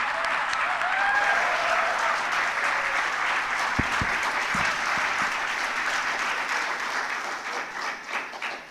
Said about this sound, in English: Let's welcome her with a warm round of applause, ladies and gentlemen